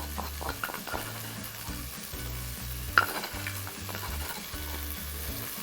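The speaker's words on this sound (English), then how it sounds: "proceed to mix that through." Pounded cloves, onion and garlic are stirred through in a pan for mutton biryani, with a soft, steady sizzle and repeated scraping strokes, one sharper clink midway and no voices.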